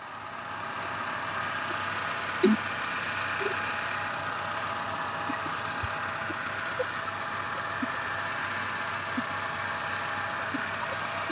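A Hyundai Santro Xo engine idles with a steady, low hum throughout, with a few faint clicks and taps scattered over the drone.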